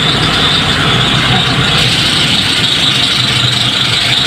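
A Hyundai D4CB diesel engine with a timing chain and tensioner problem runs steadily nearby, with a noisy belt adding a constant whine over the droning idle, and no talking.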